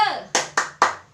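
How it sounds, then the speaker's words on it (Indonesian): Rhythmic spirit clap in a primary school lesson: a brief voice fades out, then three sharp, evenly spaced hand claps ring out close and loud. "kita tepuk semangat dulu yuk"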